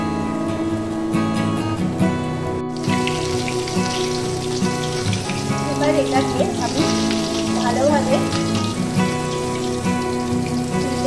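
Chicken drumsticks hit hot oil in a wok and set off a loud, dense, rain-like sizzle that carries on steadily throughout.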